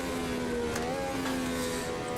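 A race car engine in Automobilista 2 drones at steady revs with a sustained tonal hum that wavers slightly in pitch, continuous and fairly faint, no talking.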